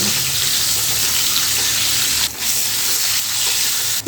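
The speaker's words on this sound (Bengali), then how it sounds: "এখন এই ডিমগুলো তেলের সঙ্গে একটু ভালো করে ভেজে নিতে হবে" Boiled eggs coated with salt and turmeric frying in hot oil, a dense, steady sizzle and hiss that runs throughout with a couple of brief dips.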